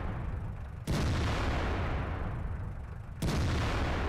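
Two sharp, loud cannon blasts about two seconds apart in the tank battle game World of Tanks, each a sudden boom followed by sustained rumbling battle noise.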